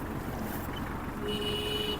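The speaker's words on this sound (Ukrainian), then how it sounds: "Сигнал працює." The horn of a Kubota GL-25 mini tractor sounds a single steady beep partway through, over the low rumble of its running engine nearby.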